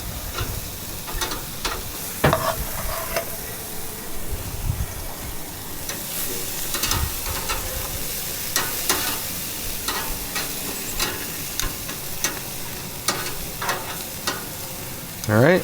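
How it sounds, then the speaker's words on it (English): Asparagus spears set on hot grill grates give a continuous close hiss and sizzle, punctuated by irregular clicks and taps of tongs against metal, with no talk over it. "We're just going to get our asparagus right on there."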